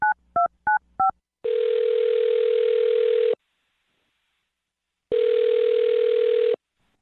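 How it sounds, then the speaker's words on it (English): A telephone dials a number: four quick touch-tone beeps, then two long, loud ringback tones separated by silence. "I'll dial her phone number right now then"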